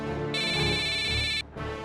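A telephone rings with a bright electronic ringtone, steady and loud for over a second, then cuts off briefly before starting again.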